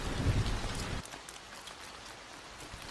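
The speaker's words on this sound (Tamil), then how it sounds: "அப்போது மழை பொழிந்தது" Steady rainfall patters as a soft, even hiss, heavier for the first second and then settling to a lighter, continuous shower.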